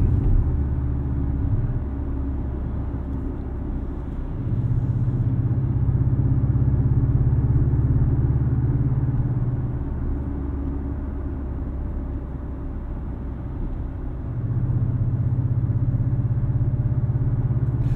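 A 2017 Porsche 718 Cayman S engine idles with a deep rumble, swelling in two longer surges of revving before falling back to idle.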